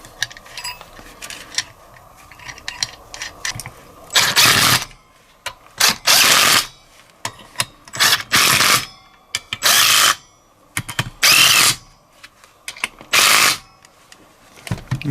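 Hand tools tighten Vespa primary drive parts during a Pinasco 251 engine build, heard as repeated loud, close bursts of ratcheting clicks, about seven in a row with short pauses between, with no talking.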